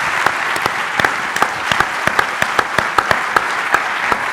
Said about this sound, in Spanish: pedir a ustedes un aplauso por la memoria de estos compañeros que murieron en el cumplimiento de su trabajo